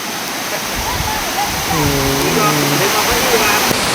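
Heavy rain falls over a waterfall at Khlong Kratha in Thailand, giving a loud, steady, broadband roar of rushing water, with a voice talking briefly in the middle.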